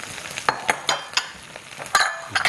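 Mixed vegetables, onion, carrot, zucchini, aubergine, tomato and potato, fry in butter and oil in a pan, a bright crackling sizzle broken by several sharp scraping stirs close by, with no voices.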